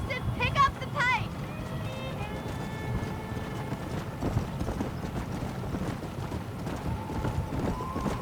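Horse hooves pounding in a Red Dead western video game, a steady galloping clip-clop under game music and a voice talking over it.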